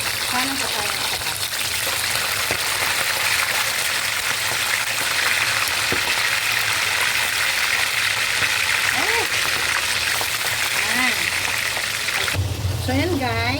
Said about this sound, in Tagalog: Nagigisa lang natin yung ating sahog.